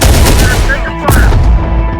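Dense gunfire in Terminator Dark Fate Defiance, loud overlapping bursts of automatic weapons with heavy booms, close and continuous, a brief voice cutting through the battle.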